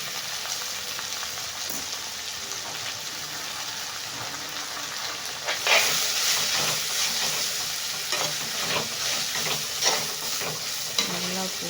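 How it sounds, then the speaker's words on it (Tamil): Freshly cut spinach greens are stir-fried in a pan, giving a steady close sizzle with scraping and stirring clatter that grows louder and busier partway through. "நல்லா போட்டு நல்லா கிளறி நல்லா வதக்கிக்கோங்க"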